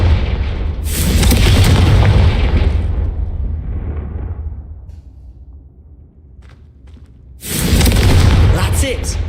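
The Confringo spell fires in the Hogwarts Legacy video game. It gives a loud booming blast early on that rumbles off, then a quiet lull, and a second heavy blast near the end.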